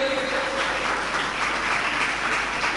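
Audience applause in a lecture hall, a dense, steady wash of many hands clapping at once, sustained and even across the whole stretch with no voices on top.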